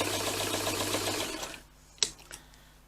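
A Jones sewing machine, freshly cleaned and oiled, runs steadily for about a second and a half and then stops, followed by a couple of brief clicks and taps close by.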